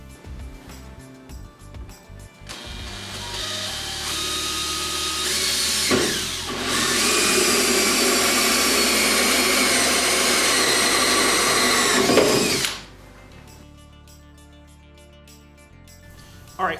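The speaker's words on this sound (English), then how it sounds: "we're going to take a 2-inch hole saw and we're just going to cut right in the back side of the pocket" A 2-inch hole saw cutting into the plastic pocket panel of a RZR side-by-side: a drill spins up, then grinds loudly and steadily for about six seconds before stopping, followed by quieter handling clatter.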